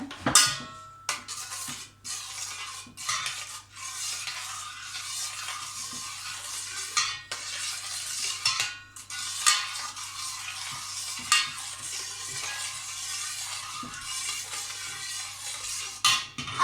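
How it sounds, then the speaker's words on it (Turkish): A spoon stirs homemade liquid soap, made from a solid bar, in a pot, giving repeated scraping swishes and soft clinks in an irregular rhythm, close and fairly loud, with no talking. "Kaşıkla karıştır şimdi."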